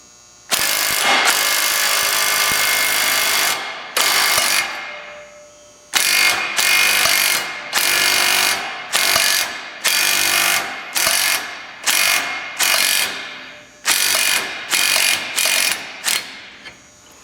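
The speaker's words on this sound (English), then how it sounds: "I'm going to use my impact here." Impact wrench hammering on a U-joint press tool on a rear driveshaft of a 2000 Chevrolet Silverado Z71 1500, loud close rattling bursts of one to three seconds repeated about ten times with short pauses between.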